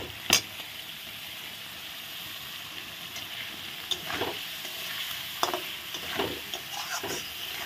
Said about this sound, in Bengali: আলুটাও একসঙ্গে মশলার সঙ্গে কষানো হয়ে যাবে।